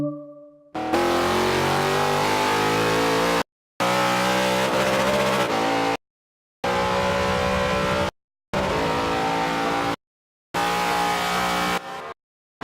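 V8 race car engines roaring loudly at a race start, several long sustained blasts of hard acceleration separated by brief silent gaps, with tyre squeal.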